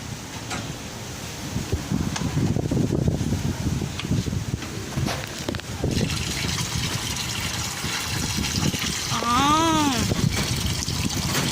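Water trickles and splashes steadily in an aquaponics fish tank outdoors, a continuous moderate flow with some wind and rustling, and a brief whistling tone near the end.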